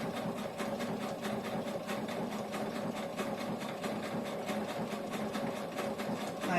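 Sewing machine top stitching the flap of a shoulder bag, a quick steady mechanical rattle of needle strokes repeating evenly at close range, alone without talk.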